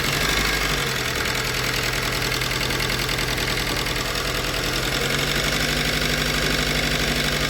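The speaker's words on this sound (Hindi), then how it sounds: "थोड़ी सी मिसिंग है इंजन में अभी" Car engine idling with a slight misfire after a broken timing chain and camshaft were repaired. It gives a steady, close, continuous running drone with a faint underlying knock, alone without talk.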